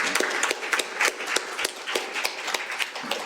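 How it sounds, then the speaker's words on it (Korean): Close, crisp clapping from a small audience fills a policy forum on the Korean animation industry, an uneven patter of hands with no voices heard. "박수 한번 보내주시죠"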